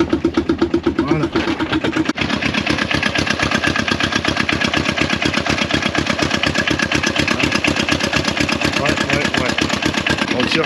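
A small diesel car engine turning over and catching, then settling into a steady, loud, close idle with a dense rapid clatter that holds evenly throughout.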